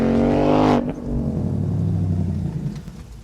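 A 2021 Ford Mustang Mach 1 engine with the handling package roars loudly up close, then drops abruptly to a lower, steady rumbling idle that fades slightly toward the end.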